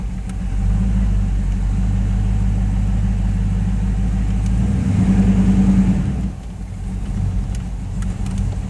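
The 6.0 LS V8 in an Olds Custom Cruiser Wagon drones steadily from inside the cabin while driving, a deep rumble that swells as it accelerates, then settles back into a lower cruise.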